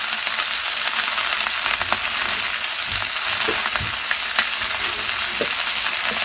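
Sliced onion and soaked dried mushrooms sizzle loudly in a hot pan, a dense continuous crackle with scattered pops and occasional stirring scrapes, close up and steady throughout.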